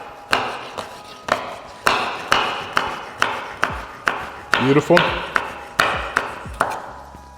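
A knife chops vegetables into tiny cubes for a Thai green curry, striking the board in a steady rhythm of sharp, close knocks about twice a second, with a brief spoken word partway through.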